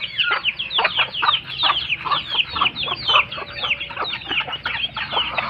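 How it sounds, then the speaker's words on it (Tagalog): Several farm chickens cluck in a busy, irregular chatter of short calls, close and fairly loud throughout, with no talking over them. "Konti na lang yung manok natin mga day."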